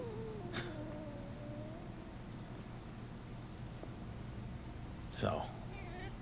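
A cat in Murdered: Soul Suspect gives a few short mews, one early and a louder one near the end, over a low background hum, with no talk.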